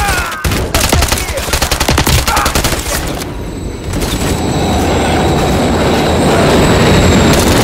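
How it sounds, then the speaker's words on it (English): A train rumbles past a crossing in the Call of Duty MW3 (2023) campaign, a loud, close, rhythmic clatter of wheels with gunfire crackling in the opening seconds, settling into a steady heavy roar. "Crossing, watch for trains."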